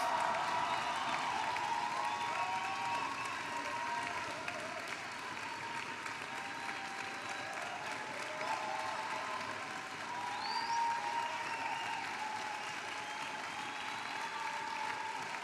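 Sustained applause from a concert hall audience at an orchestra concert, honoring a bassoon soloist after his performance; dense, steady clapping throughout with faint crowd murmur beneath.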